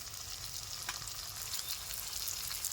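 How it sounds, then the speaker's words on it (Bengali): Chopped onions frying in a pan with chopped tomato and turmeric added: a quiet, continuous crackling sizzle without a break, faint and evenly textured throughout. "পেঁয়াজটা ভাজা ভাজা হয়ে আসছে, দিয়ে দিচ্ছি টমেটো কুচি, হলুদ গুঁড়ো"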